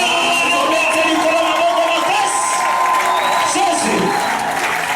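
A church congregation applauding and cheering during a French-language sermon, sustained loud clapping with whoops and shouts filling the room, voices mixed in throughout.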